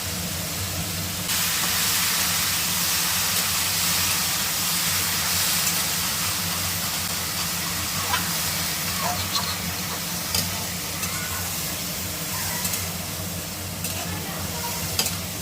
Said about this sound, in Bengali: লাল লাল করে ঝিঙ্গা আলু কাটাগুলো দিয়ে দিতে হবে